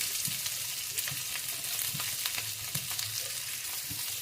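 Garlic and onion sizzle steadily in a tablespoon of hot oil in a pan, a constant crackling fry with occasional soft stirring taps, close and alone.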